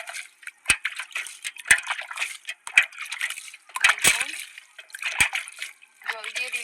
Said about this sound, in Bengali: এতে জল দিয়ে দিচ্ছি।